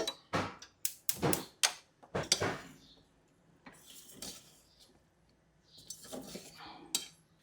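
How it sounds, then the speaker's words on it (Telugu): A spoon scrapes and clinks against a pan as chicken with oil and spices is stirred, giving a close run of sharp metallic knocks early on and then softer, scattered scrapes. "ఒకసారి మనం ఆయిల్ వేసుకున్న చికెన్ కూడా వేసేసుకుని మంచిగా కలిపేసుకోవాలండి"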